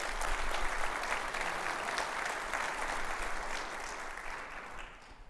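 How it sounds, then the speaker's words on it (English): A conference audience at an aviation industry product introduction applauds steadily for about five seconds, a dense, even wash of clapping that fades slightly at the end. "a round of applause for all our partners that have installed that"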